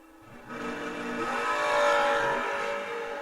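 Drag racing cars, among them a third-gen Camaro, launch at a memorial race, engines swelling into a loud roar that peaks and then eases.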